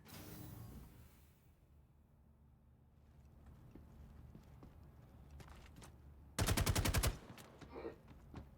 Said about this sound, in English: So we'll get him with the beautiful sounding FS9.